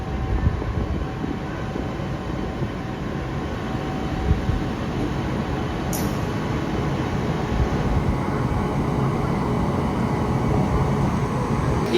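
Himsagar Express standing at a station platform while its locomotive is coupled on, a steady low rumble of engine and station noise with a brief sharp metallic hiss midway.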